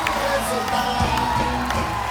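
A studio audience at a comedy show cheers and whoops continuously, a dense, steady crowd roar with scattered shouts layered over it.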